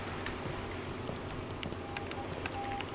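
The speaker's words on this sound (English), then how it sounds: "Sounds like it's raining outside." Steady rain falls outside in a video game: a soft, continuous patter with faint scattered drops, constant and unbroken throughout.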